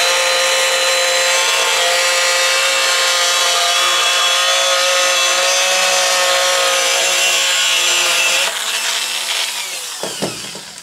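A rotary tool cuts thin styrene plastic from an Etch A Sketch in a steady, loud, high whine that holds for about eight seconds, then slows and trails off.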